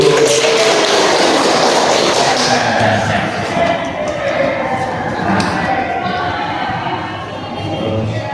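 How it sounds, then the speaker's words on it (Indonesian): A class of young pupils claps their hands together during a primary-school maths lesson, a dense, loud burst of tapping and thudding claps running throughout, with some voices mixed in. "Tepuk tangan dulu."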